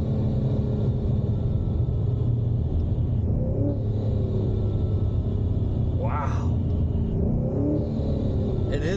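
A KraftWerks-supercharged 2018 Ford Mustang GT rumbles steadily from inside the cabin, its engine droning low with rising whine-like tones as it pulls, while people talk over it.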